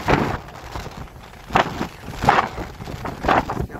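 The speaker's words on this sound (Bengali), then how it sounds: "প্রচন্ড বাতাস, ঝোড়ো বাতাস।" Stormy wind gusting across open paddy fields at the edge of a wetland, heard as repeated rushing, buffeting surges at close range, rising and falling roughly every second or so.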